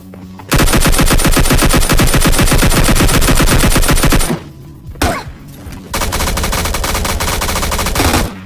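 Automatic fire from an MP5 in the video game PUBG Lite rattles in long, loud, rapid bursts of gunshots with short pauses between volleys, close and dominant with no talk.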